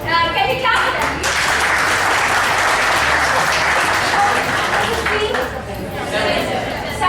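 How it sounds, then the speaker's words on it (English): An audience at a corporate training session applauds, dense sustained clapping from many hands with some crowd chatter mixed in, lasting the whole stretch before tapering slightly. "can we clap for them?"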